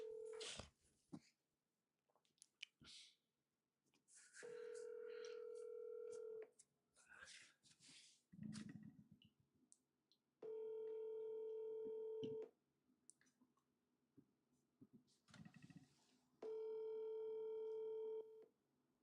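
Telephone dialing on a call line: bursts of tones alternate with a steady dial tone repeated three times in sustained blocks, with brief talk and clatter in the gaps between them.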